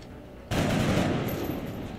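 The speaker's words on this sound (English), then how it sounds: "back out a bit from the sectoid and open fire on that thing" Weapon fire aimed at a sectoid alien in the XCOM video game erupts after a half-second of quiet and holds as a loud, dense, sustained burst, with no talk.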